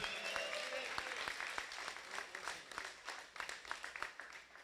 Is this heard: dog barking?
no